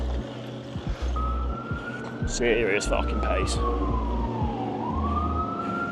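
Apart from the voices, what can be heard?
police siren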